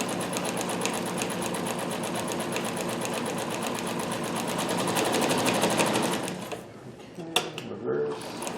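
A Dressmaker 2402 sewing machine stitches a zigzag, its rapid, steady mechanical whir loud and continuous for about six seconds before stopping, followed by faint clicks and handling noises.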